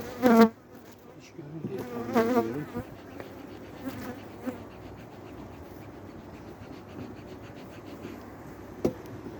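Honeybees buzz steadily around an open hive during a December brood check, a close, continuous hum with a few louder bursts near the start and a brief sharp knock near the end.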